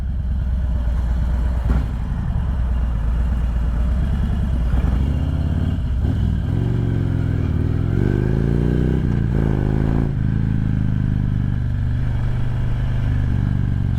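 A Harley-Davidson Road King motorcycle rolls through a small town, its loud, steady V-twin rumble close by throughout, with the engine note rising and falling through shifts and throttle changes midway.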